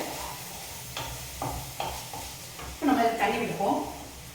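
Tomato masala for a ragi poori tiffin sizzling in a pan and being stirred, with soft repeated scraping strokes over a low fry, then a louder burst of sizzle near the end; no talking.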